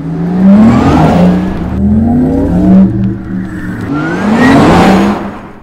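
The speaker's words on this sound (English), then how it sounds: "This also has a GTS-specific sound that's deeper and louder than any other Taycan." A Porsche Taycan GTS electric car plays its deep, loud synthetic drive sound, rising whirring tones that swell, ease off around the middle, then surge again, close and without talk.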